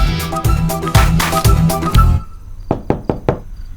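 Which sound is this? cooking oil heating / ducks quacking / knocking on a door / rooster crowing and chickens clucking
knocking on a door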